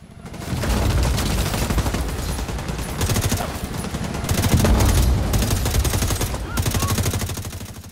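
Gunfire in the video game The Division 2 runs as continuous rapid automatic bursts, loud and dense throughout, with brief dips between volleys.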